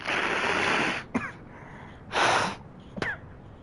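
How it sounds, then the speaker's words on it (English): Someone blows their nose close to the mic in two forceful, breathy honks, the first long and the second shorter, each followed by a quick sniff. "Let me blow my nose real quick."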